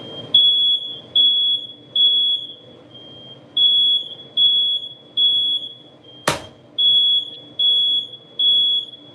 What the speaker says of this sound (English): there's no reason that my alarm should be going off